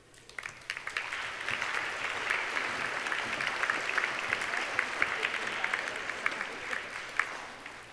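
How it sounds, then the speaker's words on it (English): An audience at a Clean Water 2015 event applauds the Making Waves Award winners: dense clapping builds quickly and holds steady, with a few sharper claps standing out in a room. "give all of our Making Waves Award winners one more big round of applause"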